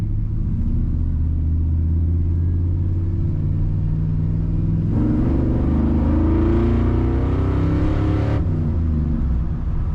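A 1985 Chevrolet C10 Silverado pickup engine revs up loudly, its pitch climbing steadily through acceleration before settling back to a lower rumble near the end.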